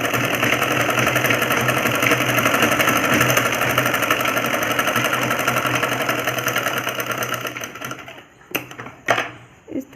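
A sewing machine runs fast and steady, double-stitching a seam on trousers with a dense, rapid mechanical whir for about eight seconds, then slows and stops with a few clicks and handling knocks.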